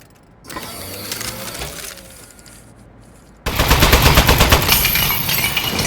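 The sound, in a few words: turret gunfire in video game Aperture Desk Job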